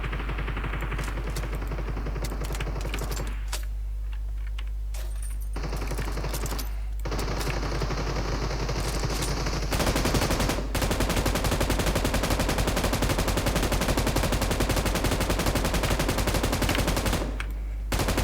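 Gunfire in the mobile shooter PUBG Mobile, Arena mode: rapid, close, continuous bursts of rifle shots crackle almost without pause across the clip, with brief gaps and changes in density.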